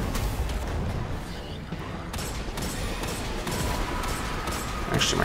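Continuous gunfire in the video game Destiny 2, a dense stream of rapid shots during a boss fight, loud and sustained with someone talking over it.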